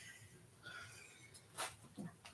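A quiet room with faint background murmur, then one sharp, brief sneeze bursts out, followed by a softer snort or breath.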